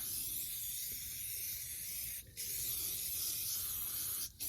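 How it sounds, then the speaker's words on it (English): Aerosol can of Armor All foam cleaner sprayed onto a car wheel at a junkyard, a steady close hiss running continuously with two brief pauses where the nozzle is released. "Let's go ahead and hit it with the Armor All. It foams up like gunk or something like that."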